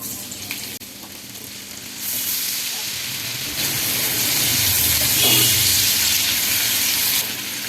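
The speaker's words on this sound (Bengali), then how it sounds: "মাছ ভাজার করে আমি আরেকটু তেল দিয়েছি এবার দিচ্ছি পেঁয়াজ কুচি" Chopped onion hits hot oil left over from frying fish, bursting into a loud, steady sizzle that swells and holds as it cooks in a shrimp bhuna preparation; no talking.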